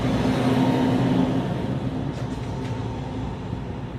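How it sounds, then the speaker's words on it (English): A dump truck approaching, a loud steady low engine rumble and rolling road noise that holds for several seconds before easing slightly, with no talk over it. "here comes the dump truck"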